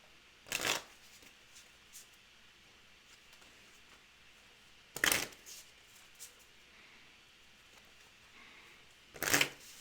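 A deck of cards shuffled during a tabletop war game, three short crisp riffle bursts spaced several seconds apart against a quiet background.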